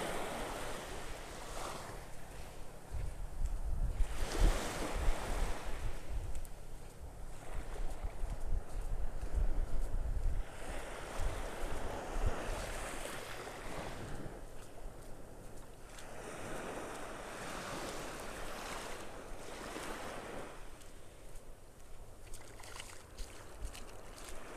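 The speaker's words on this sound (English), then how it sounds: "These little waves." Small waves wash onto a beach in Naples, Florida on a calm, lightly breezy early morning, with repeated broad swells of surf rising and falling at a moderate distance and low rumbling wind noise on the microphone.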